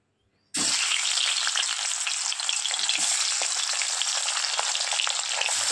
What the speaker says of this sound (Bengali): তেলটা গরম হয়ে গিয়েছে, এবার আমি মাছটা ছেড়ে দেব।